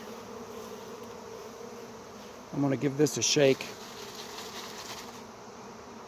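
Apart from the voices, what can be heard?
honey bee swarm buzzing during capture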